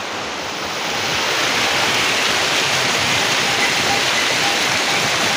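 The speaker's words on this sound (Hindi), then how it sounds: "झरना स्वर्ग से आ रहा है ये।" A mountain waterfall on the trek to Madhyamaheshwar in the Himalaya pours in a steady, loud, broadband roar. It builds slightly at the start, then holds level throughout with no voices.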